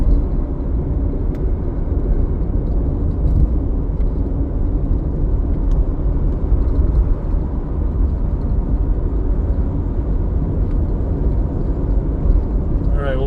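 A car cruises along a road through farmland near Chesterfield, Idaho, its steady low rumble and road noise heard from inside the cabin, continuous and even throughout.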